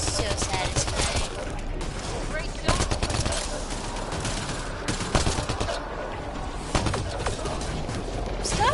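Gunfire in the video game Mass Effect Andromeda comes in dense, rapid volleys of sharp shots. They rattle continuously at close range with a few heavier bangs, and voices mix in underneath.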